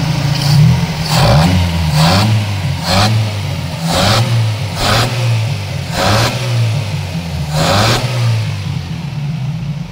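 A Toyota Corolla EE100 engine revs up to about 4,000 RPM in a series of roughly eight rising and falling pulses, close and loud over a steady idle, with no talking.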